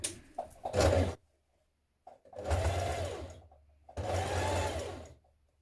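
A sewing machine hems the sleeves and bottom edge of a top, running in three close, steady bursts with pauses between them.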